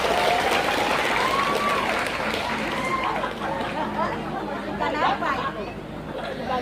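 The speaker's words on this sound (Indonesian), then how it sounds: "Tepuk tangan dulu dong buat Banser kita." An audience at a religious gathering in Bongas district applauding the Banser guards, sustained crowd clapping mixed with chatter and a voice speaking over it, tapering slightly toward the end.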